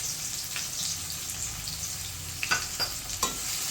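Onions sizzle steadily in hot oil for potol dorma, a constant bright frying hiss with a few stirring scrapes and sputters near the end, no voices.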